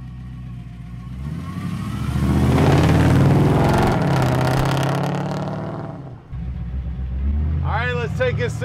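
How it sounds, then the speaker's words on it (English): A powerful big block engine in a 1963 Chevrolet C10 pickup revs up and swells in volume, then drops and settles into a rough, throaty rumble, close by. "Man, that big block makes some power. It sounds so tough."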